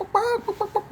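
A chicken clucking up close, a loud first cluck followed by three or four shorter, quieter clucks in quick uneven succession, all within a second.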